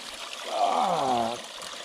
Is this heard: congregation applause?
no